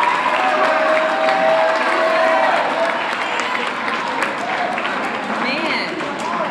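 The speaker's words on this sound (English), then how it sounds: "Can we give her a nice round of applause?" Steady applause from a crowd, dense clapping that fills the room and keeps going at an even level throughout, with a few voices mixed in.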